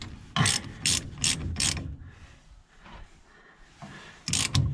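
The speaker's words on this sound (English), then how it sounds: "this has been very handy, the ratcheting wrench" A ratcheting wrench turns 3/4 bolts on a John Deere 300 corn picker husking bed, with quick bursts of sharp clicking strokes repeated in groups and a brief pause between, close up.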